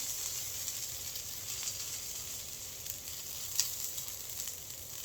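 Rice fries with tomato in a hot pan for Salvadoran-style fried rice, a close, constant frying hiss with small crackles and no voices.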